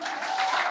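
A youth church congregation breaks into a brief, even round of clapping during a Sunday service, a close, steady patter of many hands.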